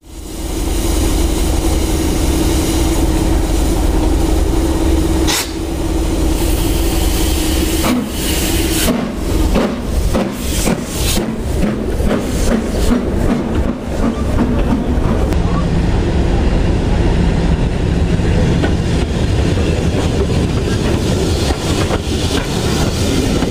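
A North York Moors Railway steam train runs on its rails, loud and close, with a steady rumble and hiss giving way to a fast rhythmic clickety-clack of wheels over rail joints that continues to the end.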